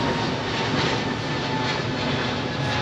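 Emirates Airbus A380 at London Heathrow, a steady broadband jet roar that stays loud and constant throughout, heard from fairly close.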